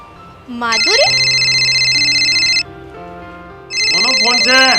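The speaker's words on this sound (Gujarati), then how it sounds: "કોનો ફોન છે?" An incoming call sets a mobile phone ringing with a loud, bright melodic ringtone that repeats in two bursts, while voices and other sounds carry on underneath.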